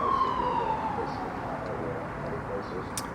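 A distant emergency vehicle siren wails faintly through steady outdoor background noise with a radio playing, one long gliding tone fading downward early on.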